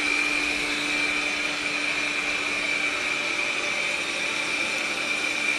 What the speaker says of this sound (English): So at the moment it's just vacuuming.